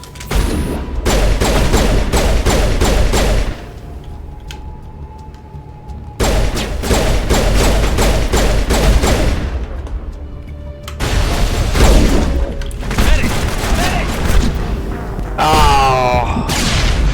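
Rapid bursts of pistol fire from the video game Mass Effect, loud and close, come in three separate volleys with brief quieter gaps between, over a constant game soundtrack rumble.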